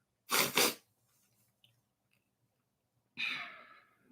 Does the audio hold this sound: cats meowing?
no